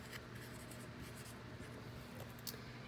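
Pen or marker writing a number by hand on a surface, steady faint scratching strokes running continuously and close up, with no talking.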